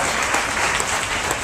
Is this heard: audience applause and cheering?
yes